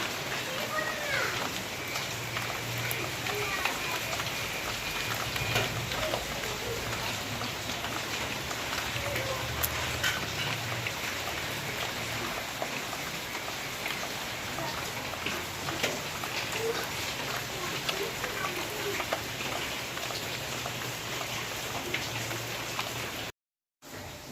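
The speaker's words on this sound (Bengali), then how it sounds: "সারাদিন সকাল থেকেই আজকে বৃষ্টি হচ্ছে" Steady rain has been falling all day at home, a continuous even hiss of rainfall heard throughout at moderate level, briefly cut off near the end.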